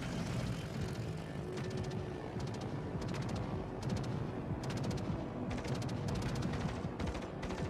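Aircraft-carrier torpedoes in World of Warships strike the center of a ship at its torpedo protection: a run of sharp, crackling impact bursts in quick succession over a steady engine drone.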